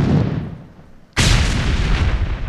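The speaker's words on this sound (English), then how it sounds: "I'm using grenade to kill this dinosaur." A grenade blasts in Real Dino Deadly Hunt during a dinosaur hunt in a small town, one sudden loud boom after a quieter lead-in, followed by a sustained rumbling roar.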